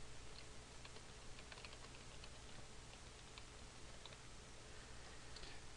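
Faint keystrokes on a computer keyboard tick lightly and irregularly across a steady background hum, typing a name into a search box in ArcGIS.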